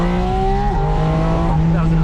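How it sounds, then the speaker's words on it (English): Porsche 718 Spyder RS flat-six engine revving, then a quick upshift drops the pitch before it climbs again, loud and close, heard from inside the car. "That was an upshift, right?"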